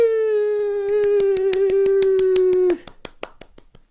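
Steady rhythmic hand claps at the opening of a live stream, sounding under a loud, sustained pitched tone that drifts slightly downward and then cuts off, leaving a few scattered, fading claps.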